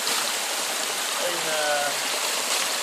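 A waterfall at Ventana Canyon rushes steadily and fairly loudly throughout, an even broadband hiss of falling water close by, with faint hints of voices beneath it.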